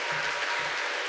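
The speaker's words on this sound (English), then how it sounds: "could we just take a second to give them a round of applause because they did a great job" Brief, steady applause rises from an audience after a school Mass, a soft wash of many hands clapping at a moderate distance.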